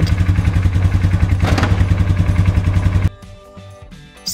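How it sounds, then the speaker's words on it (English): A quad bike engine chugs loudly up close in a fast, even pulsing rhythm for about three seconds, then drops to a quieter idle with a few uneven bursts. "Quad."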